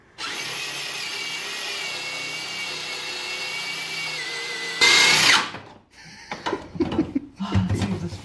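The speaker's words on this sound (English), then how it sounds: "I got some help from a friend to drill the holes in the trunk where the frame would mount." A power drill bores holes in a track car's trunk for a frame mount, with a steady whining run for several seconds, then a louder, harsher burst as the bit bites, followed by scattered clattering and knocks.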